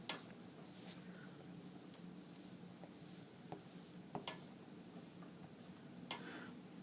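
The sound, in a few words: erasing pencil drawing on paper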